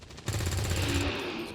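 Gunfire in XCOM 2, a burst of loud shots and crackling impacts starting abruptly after a brief quiet, with a sustained rumbling tail filling the rest of the moment.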